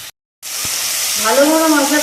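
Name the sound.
stirring frying spice masala in a pan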